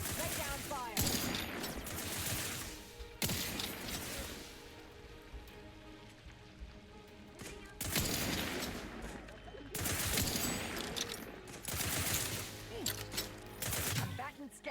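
Rapid bursts of automatic gunfire in the video game The Outer Worlds 2 come in several heavy volleys separated by quieter stretches, with a dense, crackling texture.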